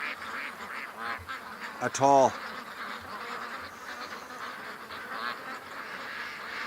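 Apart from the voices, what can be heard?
Muscovy ducks quacking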